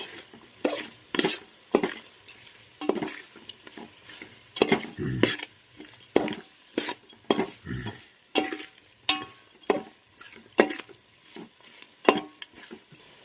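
A spoon scrapes rhythmically through chicken and chili powder in a pot for biryani, roughly one stroke per second over a faint sizzle, each stir a distinct close scrape with light metallic clinks and no talking.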